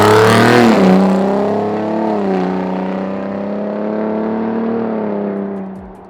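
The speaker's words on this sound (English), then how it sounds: "testing the new SPD Resonator Delete, and I think it sounds fantastic" A new Ford Bronco engine with an SPD resonator delete revs up with a deep, raspy exhaust drone, then settles into a steady throaty hum before tapering off near the end.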